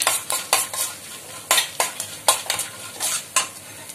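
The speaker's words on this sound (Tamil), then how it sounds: "இந்த கடுகு, கடலைப்பருப்பு இது இதெல்லாம் போடுறேன். இதை கொஞ்சம் நிதானமான தீயில வச்சு பொரிச்சு எடுத்துக்குங்க." Mustard seeds and chana dal fry in oil over a low flame for lemon rice, giving a soft sizzle broken by sharp, irregular crackles and pops that burst repeatedly and close by, with no voices.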